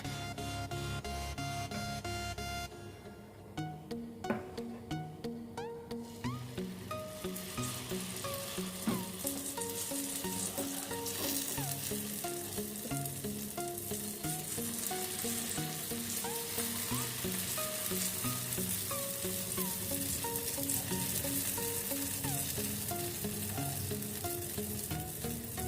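Moong dal uttapam batter sizzles and fries steadily in a hot pan, a loud continuous crackle with dense popping that builds after a brief quieter start and holds throughout, no talking.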